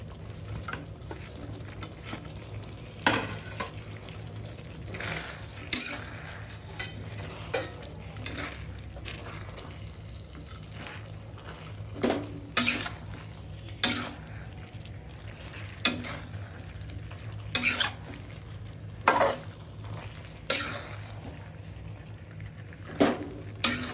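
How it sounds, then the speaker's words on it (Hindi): Deep-fried chicken for restaurant-style chicken 65 being stirred into masala in a pan, a soft sizzle with repeated scraping and clinking of a spoon against the pan at irregular intervals, close, without talk. "अभी हम इसमें ऐड करेंगे हमारी चिकन जो हमने फ्राई किया था, डीप फ्राई किया था"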